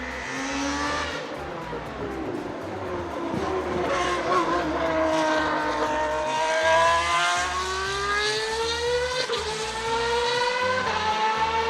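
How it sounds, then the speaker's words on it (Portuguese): Ferrari Formula 1 car engine, the poorly performing early-1990s design, screams loudly with rising and falling high-pitched harmonics as it revs and shifts, continuous and close for the whole stretch with no talk over it. "O único ponto positivo desse carro era o som do motor, que era maravilhoso."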